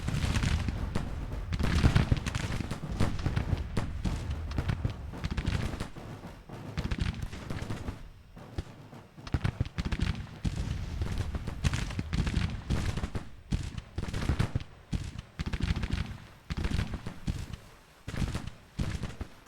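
Dense musket volleys and artillery booms from a Civil War video game battle, a near-continuous crackle of gunfire with heavy blasts throughout, loud and without pause.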